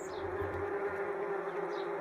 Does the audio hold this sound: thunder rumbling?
no